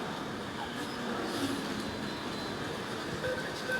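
A steady rumble of rail traffic fills the air at a train station in Nigeria, a broad continuous hum with faint metallic tones, like a train idling or rolling slowly at a platform.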